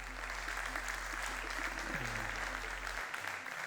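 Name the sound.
audience applause welcoming speaker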